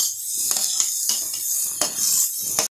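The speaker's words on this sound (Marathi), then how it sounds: "तूप आणि त्यामध्ये हा खिसलेला गाजराचा खीस घालून घेऊया।" Grated carrot drops into hot ghee in a pan for carrot halwa, giving a steady high sizzle with several scraping, clinking spoon strokes against the pan before it cuts off abruptly.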